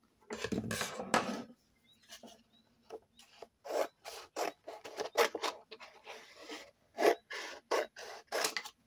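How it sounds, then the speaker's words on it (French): Excess material trimmed off a freshly glued piece: a close, uneven run of short rasping cuts and scrapes, loudest at the start and then in separate bursts, with no talking. "On va couper le surplus de celui-là."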